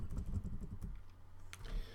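Typing on a computer keyboard, a rapid patter of close key clicks with a brief pause and a few sharper presses near the end, alone with no speech.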